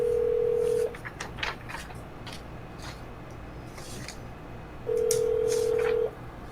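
Two telephone keypad dialing tones sound while a number is entered, each a clean steady beep held about a second, one at the start and one near the end, with faint room noise between them.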